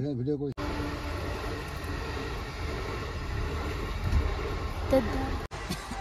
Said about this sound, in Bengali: এটা দূরপাল্লার ট্রেন